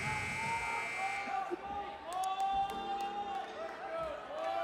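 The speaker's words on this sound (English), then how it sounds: "Hear the buzzer go off" A buzzer sounds in a large, echoing arena at a men's NCAA gymnastics meet over steady crowd murmur, with scattered thumps and background chatter.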